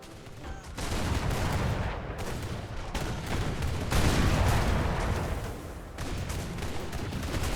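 Dense rumbling barrages of explosions and rapid gunfire roll on continuously in the airship combat game Airships: Conquer the Skies as bombs fall, loud and unbroken with brief dips between volleys.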